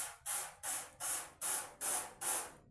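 A hand sprayer mists water onto a photo emulsion printing screen in six short, even bursts at a steady rhythm, each a close, bright hiss with brief pauses between them.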